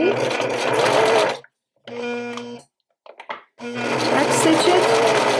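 A sewing machine back stitching the waist seam of a pair of jeans, running in two loud sustained whirring passes separated by a pause and a few short stop-start bursts, close up.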